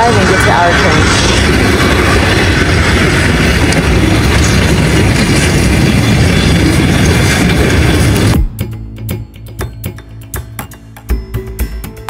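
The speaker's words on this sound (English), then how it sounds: "Train's passing, so hopefully that means we can finally get to the other side and get to our train." A train on a line in Uzbekistan passes close by with a loud, dense roar that fills most of the clip, then cuts off abruptly into quieter clanking and ticking near the end.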